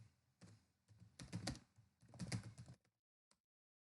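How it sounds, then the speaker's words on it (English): Keys on a computer keyboard tapped to enter a password, two quick bursts of close, crisp clicks followed by a single final tap and silence. "Type in the password"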